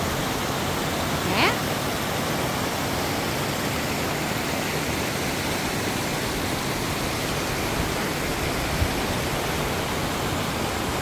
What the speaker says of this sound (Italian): Queste cascate, hai visto che belle?